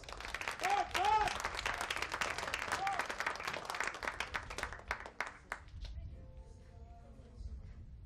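Audience applause rings out at a trap shooting competition, a steady wash of clapping that runs for several seconds before thinning out, with a commentator's voice talking over it.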